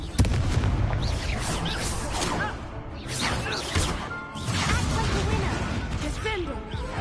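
A Confringo fire spell bursts in a video game duel as loud, dense booming blasts and crashing impacts roll on continuously, with voices mixed in.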